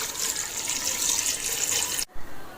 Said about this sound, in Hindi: अब हम इसमें जो है वो 1 जग पानी ऐड करेंगे।